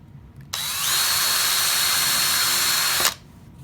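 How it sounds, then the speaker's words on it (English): A hand-held power drill spins up and bores into a piece of wood for a pyrography pen, a loud steady whine lasting under three seconds before cutting off. "I'm just going to hand hold this and drill it as straight as I can from both sides again."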